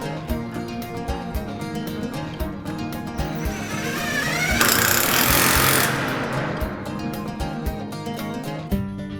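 A power drill whirs loudly for about a second and a half in the middle, driving a 3/8 bolt with a socket, rising over steady rhythmic background music with regular beats.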